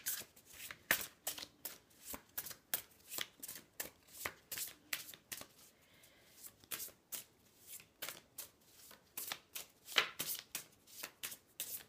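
Tarot cards being shuffled and drawn by hand, a crisp, close series of riffling and slapping bursts repeating in an uneven rhythm, with no voices over it.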